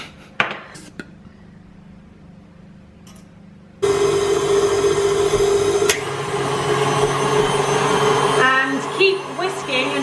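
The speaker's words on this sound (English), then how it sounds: "you're going to cream together the butter, the sugar, the vanilla, and the salt." An electric mixer creams butter, sugar, vanilla and salt for Christmas baking, starting abruptly after a few quiet clicks into a loud, steady motor whir with faint rattling.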